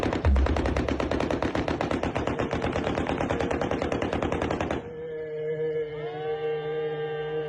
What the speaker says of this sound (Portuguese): o barulho ensurdecedor de uma sequência de tiros com fuzil